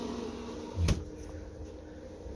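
An incubator door, converted from a Rockstar unit and lined with a regular door seal, pushed shut with a single short thud, muffled rather than sharp, against a quiet room hum.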